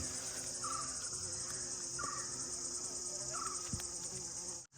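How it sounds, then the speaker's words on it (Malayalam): Insects buzz steadily around yellow cat's claw vine flowers, a continuous close hum with a few brief higher tones, no one talking. "ആ തേനീച്ചൻ്റെ ഈ വണ്ടിൻ്റെ ഒക്കെ സൗണ്ട് നിങ്ങൾക്ക് ഈ വീഡിയോസിൽ മൊത്തത്തിൽ ഇങ്ങനെ കേൾക്കാൻ പറ്റും"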